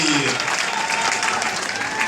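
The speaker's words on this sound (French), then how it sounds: "Applaudissez très fort pour les managers saphir." Audience applause at a French-language business project presentation, sustained dense clapping that stays loud and steady throughout, with no voices standing out.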